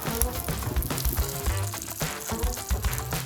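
Red and yellow cherry tomatoes sizzle in a pan with oil as they are stirred, a close, busy hiss with soft scraping and bumping of the spoon throughout.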